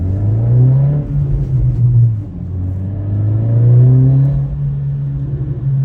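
2023 Acura Integra with a Remark exhaust revs up in gear, drops as the shift happens, then climbs again; a loud, close engine drone with a clear pause between pulls and no talking.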